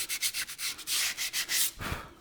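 Sandpaper scrubs back and forth in quick, even strokes over Land Rover Freelander rear brake shoes, a close, dry rasping rhythm of about a dozen passes.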